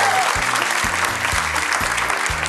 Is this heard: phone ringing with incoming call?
no